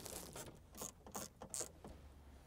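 A driver turns T20 E-Torx screws out of BMW Z4 dash trim, giving faint, close ratcheting clicks in short bursts separated by quiet gaps.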